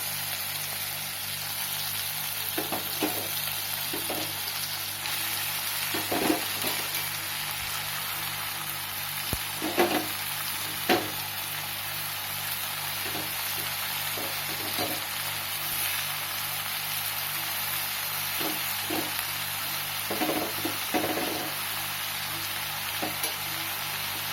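Chopped vallarai greens go into a pan of onions and mushy tomatoes frying in oil, producing a continuous broad sizzle that lasts throughout, punctuated by scattered light scraping taps of stirring.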